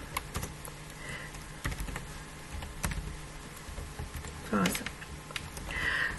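Fingers tap out JavaScript code on a computer keyboard in quick, uneven bursts of close clicks, with someone talking over the typing.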